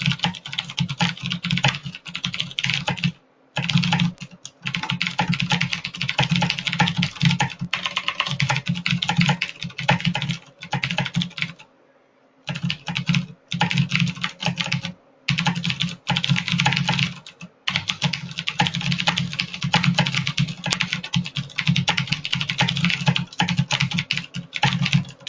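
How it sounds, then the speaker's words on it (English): Loud computer keyboard typing at a desk, with fast bursts of clacking keystrokes close to the mic and a few short pauses between runs, no talk. "pardon my loud keyboard here"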